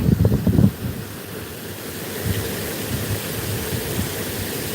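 A small seasonal river near Mangaluru flowing steadily, a broad rushing wash of water with wind noise on the microphone, a louder rumbling burst at the start and then a constant murmur, no talk.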